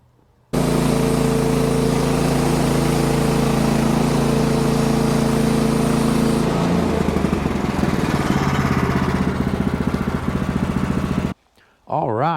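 A sawmill engine roars steadily up close while the blade makes slabbing cuts through a yellow poplar log, the loud drone shifting in tone partway through before cutting off abruptly near the end.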